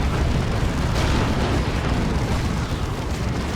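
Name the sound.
artillery fire support explosions in video game Dawn of War 2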